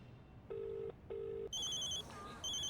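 A telephone rings in two long electronic bursts, then a brighter ringtone chirps in repeating beeps, all fairly clear with faint room noise between rings.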